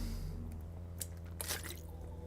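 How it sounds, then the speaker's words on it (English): Someone drinking water near a microphone, a few wet squishy gulps and swallowing sounds over a steady low electrical hum, with no talking. "Drinking some water so my voice won't get all"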